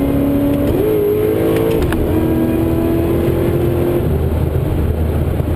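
A Whipple-supercharged Holden VE Maloo ute with a Turbo 400 automatic pulls hard in top gear, its loud engine drone climbing steadily in pitch, with a brief shift in tone partway through, close and continuous throughout.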